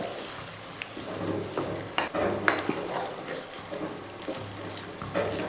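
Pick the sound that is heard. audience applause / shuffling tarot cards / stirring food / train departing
stirring food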